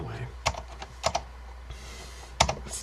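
Keys clack on a restored Focus FK-2001 keyboard with Alps switches, a few sharp, close keystroke bursts separated by short pauses, with faint background noise.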